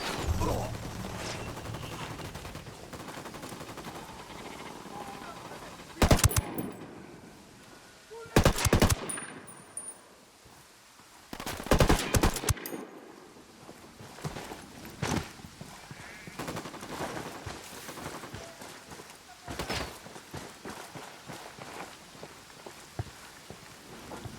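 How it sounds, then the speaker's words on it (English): Automatic and rifle gunfire in the video game Ghost Recon Wildlands, several loud bursts around the middle over a quieter background of movement and distant shots. "I'm opening fire."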